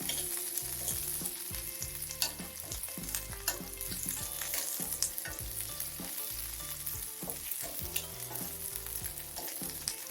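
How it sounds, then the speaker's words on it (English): A pan of frying food for Bodo chutney, browning steadily with a loud, continuous sizzle and crackle, broken by scattered clinks and scrapes of stirring over the full stretch. "we fry till it attains a slightly brown color."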